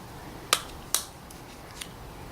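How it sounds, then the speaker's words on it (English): A flathead screwdriver pops open the battery compartment of a 2013 Audi A1/A4 key fob, giving two sharp plastic clicks close together and a fainter third tick, close up. "You can use a flathead screwdriver and just pop it open from this end"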